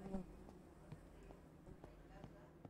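A fly buzzing close to the ear in the Close to the Sun video game, a faint, intermittent insect drone with soft ticks and footstep-like taps underneath.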